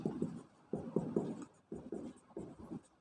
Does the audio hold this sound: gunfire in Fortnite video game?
no